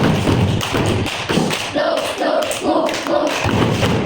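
A group of children claps in rhythm along with a counting game in a classroom, sharp repeated claps forming a steady beat that fills the room, with voices chanting underneath.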